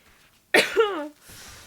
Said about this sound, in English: After a laughing fit, I have to cough so much.